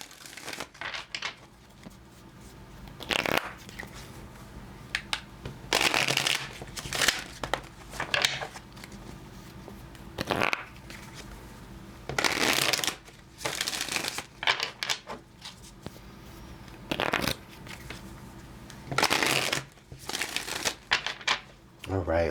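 Tarot cards are shuffled over and over in quick crisp bursts of riffling and slapping, close to the microphone, with short pauses between shuffles.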